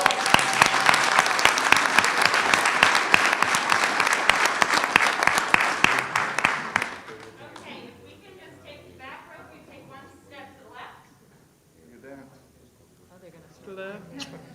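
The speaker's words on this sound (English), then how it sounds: "So can we give her another round of applause?" An audience at a school board business meeting gives a round of applause, loud and dense for about seven seconds before fading out, followed by quieter talking in the room.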